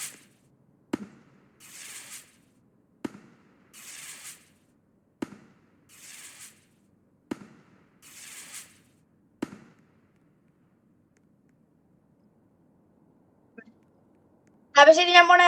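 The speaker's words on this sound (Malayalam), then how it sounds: "fire works" Fireworks go off at a campsite in a mudding area: five evenly spaced sharp pops, each followed by a short crackling burst, then near silence before a voice speaks at the end.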